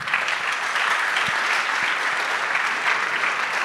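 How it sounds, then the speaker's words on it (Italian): Steady applause from a gala audience at a winter tech event, dense and sustained throughout with no pause, filling the room at an even level. "Prendi degli applausi, te li meriti anche tu assolutamente"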